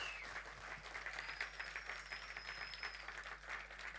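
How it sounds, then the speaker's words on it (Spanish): A church congregation at a Sunday family service claps in welcome. The applause is faint, distant and sustained over a steady low hum, with no voices over it. "démosle un fuerte aplauso"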